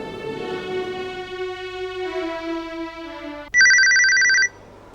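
A telephone ringtone plays a descending melodic tone sequence, followed by a loud, bright electronic ring burst lasting about a second, close and clear, with no talk.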